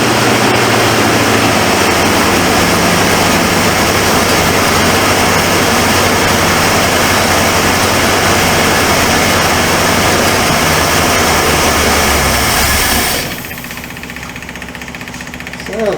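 Loud, steady running of a 1978 Ford Mustang II engine idling rough with a mis-set carburetor, a constant low drone with uneven chugging throughout, then abruptly dropping to a quieter hum near the end.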